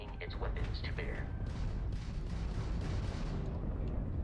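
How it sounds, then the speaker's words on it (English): Crimson Fleet ship weapons fire in Starfield space combat as a dense, loud barrage of booming blasts and rumbling impacts, with a few brief higher tones early on. "A Crimson Fleet ship bringing its weapons to bear."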